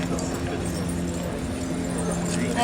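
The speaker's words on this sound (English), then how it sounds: "He's followed by Alfie Trethewey from Cornwall with his pair of plough horses." Steady clip-clop of hooves from a pair of plough horses walking at an even pace at a steam fair, heard under a constant low background rumble.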